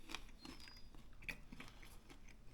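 Doritos-battered chicken breast with mumbo sauce is chewed close to the mic, giving a few sharp crunching bites and then quieter chewing, faint and without speech.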